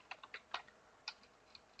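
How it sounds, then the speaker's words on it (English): Light keystrokes on a computer keyboard, a short irregular run of about eight clicks, fairly faint and alone. "Okay, when I start typing."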